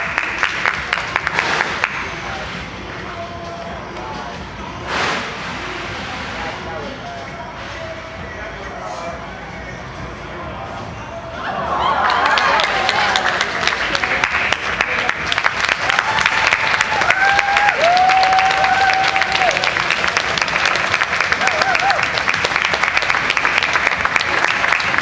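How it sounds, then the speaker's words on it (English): A crowd applauds a sideshow performer, starting with a thinner patter of claps that swells into loud, dense applause with cheering voices. A few brief whistles or shouts ring out over the ovation. "Let's have a big round of applause for the amazing"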